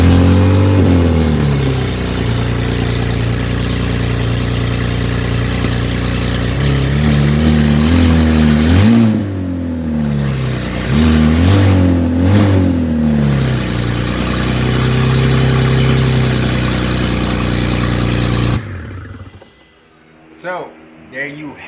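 A 1972 BMW 2002 with a swapped N54 engine starts and runs, loud and close, with a steady idle broken by several sharp revs that rise and fall before it shuts off, a voice talking at the end.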